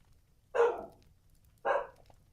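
A dog named Milo barks twice, about a second apart, each bark sharp and fairly close in an otherwise quiet indoor room.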